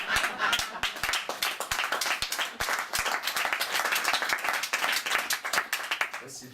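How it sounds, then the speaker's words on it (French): Applause sound effect: a steady, lively patter of many hands clapping, with crisp individual claps standing out throughout, loud and continuous with no pause. "tu as plusieurs types d'applaudissements et de rire"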